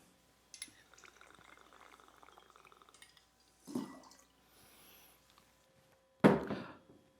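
About an ounce of orange-flavored Cointreau pours into a cocktail glass, giving a soft, thin trickle, then a couple of louder splashes and a sharp glassy knock near the end, close up and quiet, with no talking.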